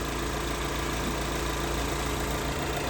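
A 2017 Hyundai i20 Asta with a CRDI diesel engine idles, giving a steady low rumble with a faint rhythmic knock, close and constant, with no talking.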